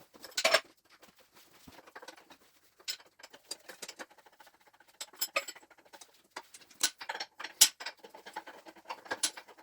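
Spanner working a fuel line loose on a Gardner 6LXB diesel engine, with quiet close ratcheting clicks and small metallic ticks in irregular patter, faint overall and free of talk.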